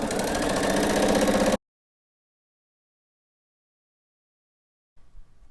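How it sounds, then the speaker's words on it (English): A sewing machine stitches straight quilting lines, giving a loud, fast, even mechanical whir for about a second and a half before stopping into silence, then a faint brief rattle at the end. "And then I'm gonna go ahead and sew my last 2 straight lines."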